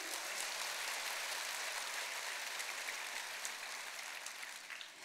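Quiet, distant audience applause at a seminar, a continuous patter of many hands clapping with no speech over it, steady throughout.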